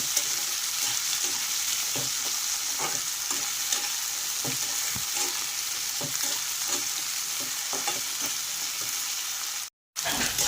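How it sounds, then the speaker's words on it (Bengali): Cut potatoes fry in a pan for a light fry, a steady sizzling hiss broken by repeated stirring scrapes and knocks, close and continuous apart from a brief cut near the end. "আলুগুলো ভাজা ভাজা করব, কিন্তু একটা বেশি না, হালকা ভাজা হবে।"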